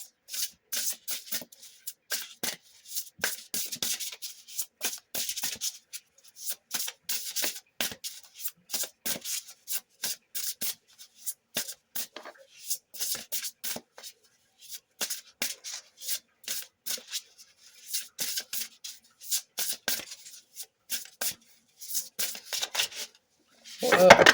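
A deck of cards is shuffled repeatedly by hand, close up, in quick bursts of riffling and sliding separated by short pauses, with a sharper clatter at the end.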